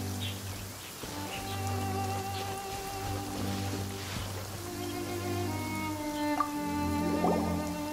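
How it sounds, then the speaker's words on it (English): Steady rainfall in the video game Genshin Impact patters in the background beneath sustained tonal music, with occasional individual drops standing out. "It's raining again."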